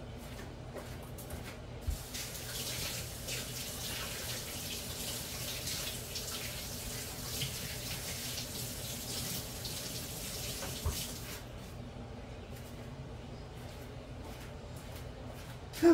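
Hands rinsed under a running kitchen tap while making potato cakes: a steady, close splashing water stream runs unbroken for the whole stretch, with no talk.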